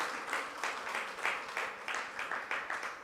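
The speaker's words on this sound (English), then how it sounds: "Can you give Ndate Zakura a round of applause?" An audience at an event celebrating women in the automotive sector applauds, a soft, distant wash of clapping with a gentle rhythmic pulse that stays faint throughout.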